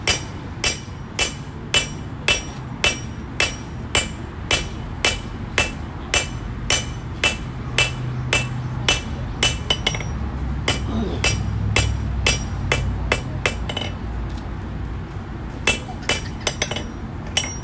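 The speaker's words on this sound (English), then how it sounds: "Now I'm going to use the flat side of the hammer just to flatten that section out of first." A hammer strikes hot knife steel again and again while a blade tang is forged flat with the flat face of the hammer. The blows are sharp, ringing and evenly spaced, close and loud over a low forge roar.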